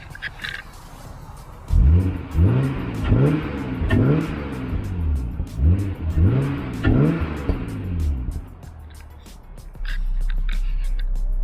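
A Genesis Coupe with Borla exhaust and test pipes revs hard several times in a row, rising and falling in repeated blips, heard at some distance outdoors, then settles to a low idle.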